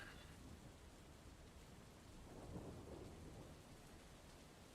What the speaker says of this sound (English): I can barely hear that thunder.